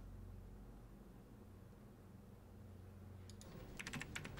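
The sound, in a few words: typing on a computer keyboard in Phantasmagoria 2 video game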